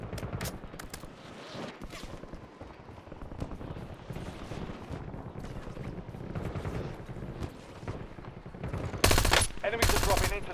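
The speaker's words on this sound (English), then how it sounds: "Incoming fire!" Sustained machine gun fire sounds throughout a military shooter game, dense and continuous, with loud bursts near the end and a voice speaking over the shooting.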